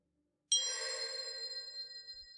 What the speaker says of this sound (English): a call bell. Sharp, sudden, echoing down the hallway.